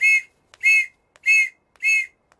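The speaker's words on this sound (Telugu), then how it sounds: "పోలీస్ విజిల్ అంటూ భయం." Police whistle blown in a comedy scene, four shrill, loud blasts in a steady rhythm with short pauses, alone without speech.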